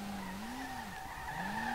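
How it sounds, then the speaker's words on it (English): Tires squealing from a car drifting in the SLRR racing game, a BMW-engined S30 sliding through a long continuous skid whose pitch wavers and dips before rising again, alone and steady. "I'm legitimately drifting."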